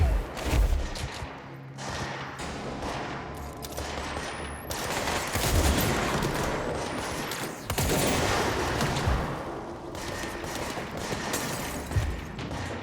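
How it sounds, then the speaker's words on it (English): Gunfire in the video game Control comes in dense, rapid bursts of loud shots that repeat throughout with brief gaps, with no talking over it. "That gunshot?"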